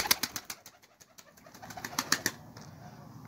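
Pigeons in a loft on a rooftop in Ankara, heard as close, sharp taps and wing flaps that come in irregular bursts, with a faint cooing beneath them.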